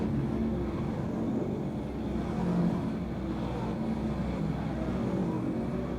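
Modified race cars roar steadily around Can-Am Speedway, a loud continuous engine drone of several cars in traffic coming off turn four onto the front stretch.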